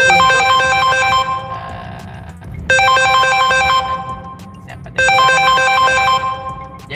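A phone ringtone rings loudly in three repeating bursts, each a bright electronic melody lasting about two seconds, with brief gaps between them.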